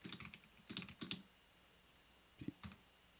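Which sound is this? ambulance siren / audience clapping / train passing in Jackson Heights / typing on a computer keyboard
typing on a computer keyboard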